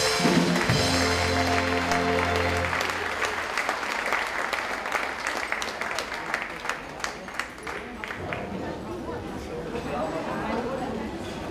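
Audience applause at a Fasnet carnival stage show, a dense burst of clapping that fades into scattered claps and crowd chatter, following a tonal musical passage at the start.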